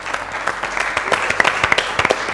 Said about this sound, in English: Let's give a huge round of applause to the contestants.